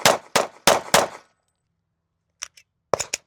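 An HK VP40 .40 caliber pistol fires four sharp, loud shots in quick succession at close range, followed after a pause by a few fainter metallic clicks and clanks.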